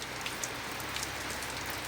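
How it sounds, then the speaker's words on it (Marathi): Light, steady rain falls over farm fields in a village, a continuous soft patter on surfaces with scattered droplet taps, even and unbroken throughout, with no voices. "आपण सध्याच्या कंडिशनला ही मुळवणी पेंडवणी स्वरूपाचा पाऊस हा चालू आहे."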